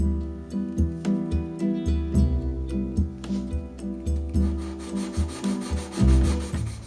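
Steady back-and-forth rubbing of a homemade hook-and-loop sandpaper block on wood, rhythmic rasping strokes about twice a second, close and continuous.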